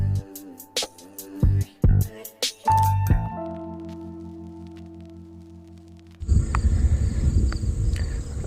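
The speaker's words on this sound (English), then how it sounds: "these bees are going nuts over whatever this stuff is" Bees buzz close by on the Appalachian Trail with a steady droning hum, preceded by a few sharp clicks and followed by a louder, rougher rustle.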